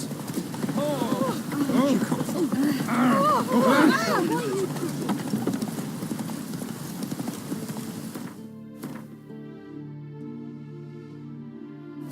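A horse's hooves clip-clop in a rapid steady rhythm in The Witcher 3 video game, with whinnying and a voice speaking over it, before the hoofbeats give way to quiet music.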